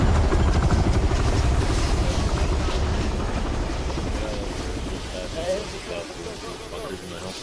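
A military helicopter at a base during platoon training, its loud throbbing rotor dominating at first and then slowly fading, with people talking over it.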